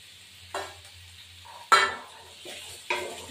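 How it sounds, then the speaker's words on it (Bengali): Green peas with green chilies stirred in a hot pan: quiet sizzling broken by four sharp scraping stir strokes, close by and spaced about a second apart. "এবার কড়াইশুঁটিগুলো এর মধ্যে দিয়ে দেবো, এর মধ্যে ভাজা হয়ে যাবে।"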